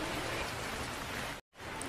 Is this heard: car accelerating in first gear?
no